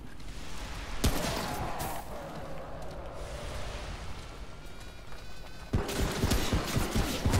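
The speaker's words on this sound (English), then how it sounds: "It was like a goddamn mosquito in my ear" A whining, mosquito-like buzz from the big ball creature in Remnant: From the Ashes, a thin high drone that persists beneath louder bursts of game noise, close and insistent.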